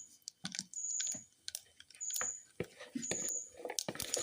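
Mustard seeds crackle and pop in hot coconut oil in a pan, quick sharp ticks and snaps coming in irregular bursts, fairly faint and close, with no talk over them.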